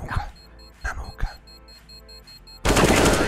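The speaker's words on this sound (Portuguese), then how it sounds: "Agora ele vai dar um tiro na nuca do adversário." Gunfire in a competitive Counter-Strike: Global Offensive match on the Mocha map, heard as a loud dense burst of shots near the end after scattered sharper pops.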